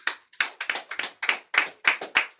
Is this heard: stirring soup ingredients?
no